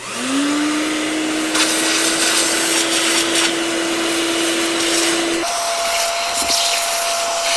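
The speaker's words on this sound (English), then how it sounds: "this is where you start using your big vacuum" A large vacuum cleaner cleans the red interior of a Toyota Camry XSE, running loud and steady near the microphone, its motor whine climbing at start-up and then holding an even drone that drops in pitch near the end.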